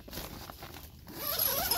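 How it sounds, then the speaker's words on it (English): The zipper on a Coleman 8-person Skydome tent is pulled in a short, close, rasping run that grows a little louder toward the end, heard alone without talk. "Can you hold the bottom so I can do the zipper easy?"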